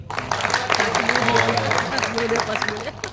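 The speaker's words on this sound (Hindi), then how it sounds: "सबसे पहले मैं चाहूंगा गुरुदेव के लिए एक बार जोरदार ताली।" Seminar audience in Ahmedabad applauding the guru, a continuous roar of clapping from a crowd, with a voice talking over it throughout.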